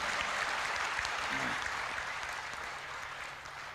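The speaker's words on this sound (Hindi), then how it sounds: "नहीं, मैं सोच रहा एक बार जरा ढंग से ताली बजाओ," Sustained audience clapping at a Hindi comedy kavi sammelan, a dense even wash of claps from a crowd that fades slightly toward the end, with a brief voice heard underneath.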